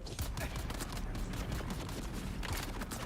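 Sustained, dense machine gun fire from enemy gunners in the game Dune: Awakening, loud and continuous for the full stretch, with a voice faintly mixed under the shooting.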